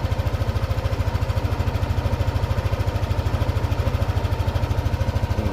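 A Yamaha NMAX scooter engine runs steadily at idle, a close, even rapid pulsing thrum that holds throughout with no voices.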